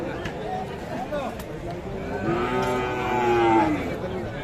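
A cow lets out a long, drawn-out moo at a busy cattle market, with people talking over the lowing and general crowd noise.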